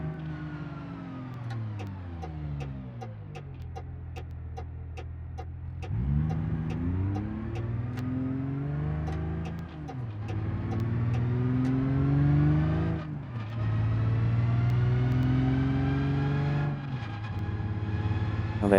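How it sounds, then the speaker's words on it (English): A car engine and transmission in the BeamNG driving game rev repeatedly, the pitch climbing through several gear changes with whining transmission noise, loud and steady with no talking. "Oh, that transmission. I love the sound. It's just a little bit loud, though."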